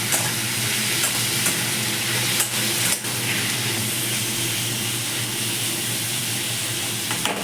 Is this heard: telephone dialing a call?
no